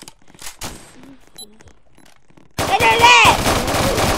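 Roblox Prison Life gunfire, starting with sparse clicks and blips and then a loud dense burst of rapid shots, with an excited voice shouting over it.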